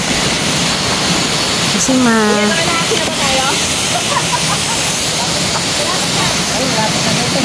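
A river rushes steadily along a trail crossing at a nature camp, a loud continuous wash of flowing water with people talking over it.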